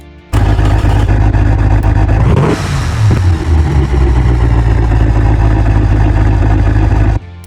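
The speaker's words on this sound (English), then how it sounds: "this is how loud this engine can get" A car engine with a loud exhaust setup in the Automation game revs hard, rising sharply then holding a loud, steady roar before cutting off, with no voices over it.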